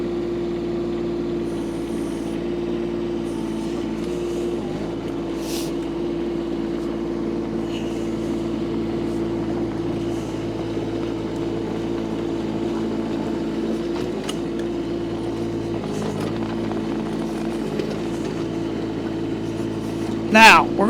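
A like-new 2024 Kubota K008-5 mini excavator on rubber tracks idles with a steady, smooth low engine drone, near and constant, with someone talking over it throughout.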